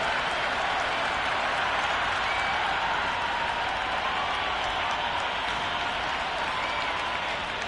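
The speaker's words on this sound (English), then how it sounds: "There's a buzz, a real buzz coming from the stands." A cricket crowd at a Big Bash League match between Melbourne Renegades and Sydney Sixers applauding and buzzing in the stands, a steady, dense roar of clapping and crowd noise that holds throughout.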